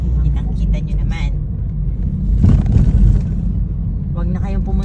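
Heavy road traffic in Baguio City, a steady low engine rumble from cars and vehicles near and around, with a louder surge midway and people talking over it at the start and end.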